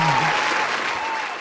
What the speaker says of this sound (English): No need for applause, guys.